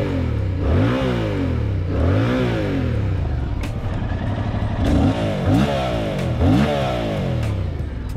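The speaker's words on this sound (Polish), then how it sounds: "Lekko odkręcasz na postoju do tych 3-4 tysięcy obrotów i słyszysz ten warkot z tyłu" A Yamaha MT-07 two-cylinder motorcycle engine with stock exhaust revs repeatedly to about 3,000-4,000 rpm while idling in place, its deep throaty rumble rising and falling in several loud swells, with no voices.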